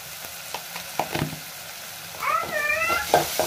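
Egg curry frying in a pan with onions as turmeric and chili powder are mixed in: soft scraping and a low sizzle, then a cat meows nearby partway through.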